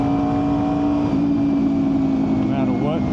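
A Honda VFR800fi motorcycle engine held at high revs above 7,000 RPM, a loud continuous droning whine with a slight pitch shift, heard close as if from the rider's position while riding.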